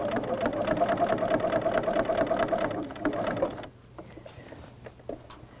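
A sewing machine runs a straight stitch to secure an appliqué, a rapid, even mechanical chatter close by for about three and a half seconds before stopping, followed by faint handling clicks.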